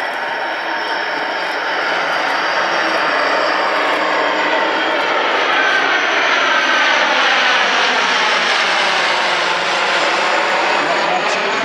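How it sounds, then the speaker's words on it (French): An Atlantique maritime patrol aircraft passes at an air show at La Ferté-Alais, its engine roar loud and steady throughout, swelling slightly and shifting in pitch as it flies by. "L'Atlantique vient de passer 2 fois"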